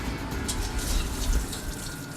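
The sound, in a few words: draining soaking water off non-glutinous rice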